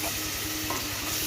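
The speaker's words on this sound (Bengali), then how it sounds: "পনিরগুলো আমি আগে ভেজে নেব।" Paneer pieces fry in refined white oil in a kadai, producing a steady, close sizzle with soft stirring movements underneath and no talking.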